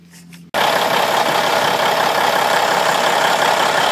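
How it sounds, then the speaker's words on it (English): A Cummins N14 diesel engine in a 1995 International truck catches after a brief crank and settles into a loud, steady, rumbling run, close up with no talk. "Alright, she's running. Sounds pretty good."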